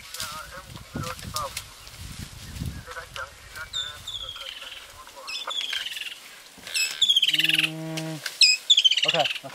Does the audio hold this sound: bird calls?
yes